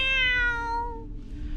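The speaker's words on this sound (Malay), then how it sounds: "saya terdengar di tempat letak kereta bunyi kucing mengiau" A single drawn-out cat meow, clear and fairly close in a parking area, fading into quiet background noise.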